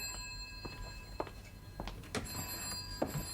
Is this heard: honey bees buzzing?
no